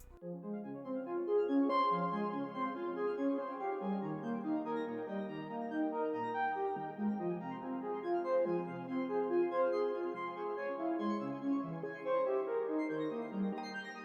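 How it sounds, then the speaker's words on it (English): A bright synth arpeggio melody ripples steadily over a soft R&B groove, notes cascading continuously at an even level with no voices. "So here's the arpeggio that I have right here."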